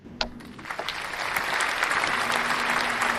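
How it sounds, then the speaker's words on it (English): An audience gives dense, steady applause for a comedy magician and Santa entertainer introduced as a keynote instructor at a Santa school in Branson, rising after one sharp opening clap and holding loud and continuous. "Please give a huge applause for Santa Joe Barney"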